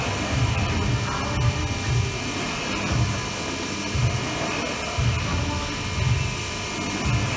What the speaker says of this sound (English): We're tapping here at about 1200 RPMs, but we're using the German taps and they are awesome.